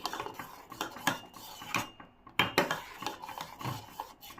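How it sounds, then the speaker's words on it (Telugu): A spoon or spatula rubs and scrapes steadily across the bottom of a pan of thickened almond milk on a low flame, making close, soft, repeated rasping strokes with small metallic clinks and one short pause, without any voices. "సిమ్లో పెట్టుకొని తిప్పుతుండాలి"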